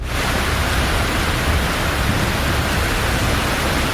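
Heavy monsoon downpour over Jaisalmer, Rajasthan during its first rain of the season, a dense, steady roar of water hitting surfaces with no breaks or voices.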